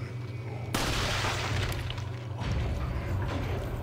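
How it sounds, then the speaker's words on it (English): Gunfire in the Resident Evil 4 video game: a sudden loud burst of shots opens a dense, sustained wash of blasts and rumble that continues to the end at a steady level. "I know it goes through people because I'm shooting the people behind that guy"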